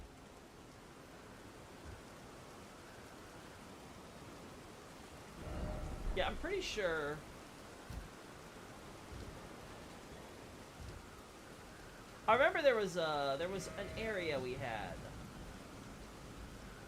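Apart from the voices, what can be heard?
rain in a video game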